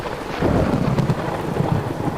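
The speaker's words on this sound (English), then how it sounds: "she heard a clap of thunder" A deep rumble of thunder swells and rolls on, with a soft hiss like rain underneath, no voices.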